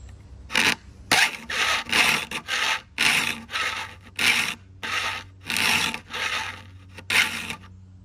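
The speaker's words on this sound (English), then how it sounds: "you want to sharpen until there's no more shiny flat spot on the tip of the tooth" A file rasps across the teeth of a vintage handsaw during sharpening, in about a dozen close, even strokes of roughly half a second each with short pauses between them, and nobody speaks.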